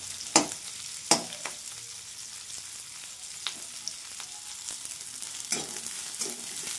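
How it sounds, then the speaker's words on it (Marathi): Chopped onions fry in a pan for a moong vada masala curry, giving a steady close sizzle broken by a few sharp clanks of a spoon stirring against the metal. "त्यानंतर आपण कांदा फ्राय करणार आहे, भाजणार आहे।"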